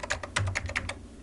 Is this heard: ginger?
no